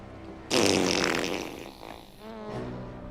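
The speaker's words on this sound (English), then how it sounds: "it is the devil who farted" A fart bursts out suddenly and loudly, then trails off in a sputtering, wavering tail lasting a couple of seconds.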